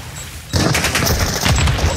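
Video game gunfire starts suddenly as a dense, loud burst of rapid automatic shots that keeps going and fills the rest of the moment, with no talking over it.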